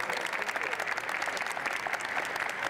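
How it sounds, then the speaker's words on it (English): A crowd at a police K9 honoring ceremony gives steady, sustained applause, a dense wash of clapping held at an even level throughout. "big round of applause"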